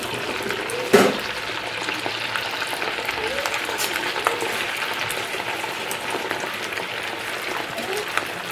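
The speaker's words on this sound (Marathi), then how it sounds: "आता हे सगळं आता मी तेलामध्ये सोडणार आहे" Semolina medu vada frying in hot oil, a steady close sizzle and crackle throughout, with a brief louder clatter near the start.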